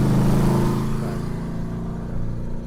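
A Ford Mustang engine rumbling deep and loud as it passes on Woodward Avenue, a steady throaty drone that eases slightly as it moves away.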